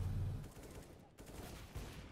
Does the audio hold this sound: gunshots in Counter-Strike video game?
yes